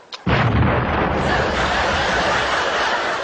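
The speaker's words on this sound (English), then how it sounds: "the most powerful exploding device known to man" A powerful exploding device goes off with a sudden loud blast, followed by a sustained, dense roaring rumble that stays strong for about three seconds.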